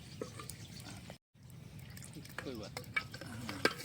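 Oil heating in a pan at an outdoor campsite gives a faint, steady sizzle with scattered stirring clicks and light drips, briefly dropping out once.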